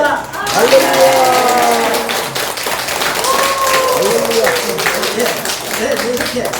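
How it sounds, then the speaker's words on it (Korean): A church congregation claps loudly and rhythmically in a dense wash of applause, with a preacher's exclamation and voices rising over the clapping. "우리 크게 하나님께 영광의 박수를 드리겠습니다"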